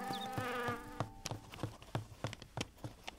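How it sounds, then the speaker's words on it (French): Cartoon bee buzzing in a French children's animated show, a sustained whine with rapid rhythmic pulsing and tapping, close and fairly loud with a musical tone at the start. "Pourquoi c'est moi qu'elle embête cette abeille?"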